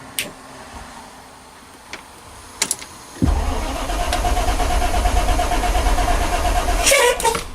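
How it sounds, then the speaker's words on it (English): The diesel engine of a 40-foot Van Hool bus cranks and catches, then settles into a loud, rough, rumbling run that continues to the end, with a few clicks and clunks before it starts. "Rough diesel."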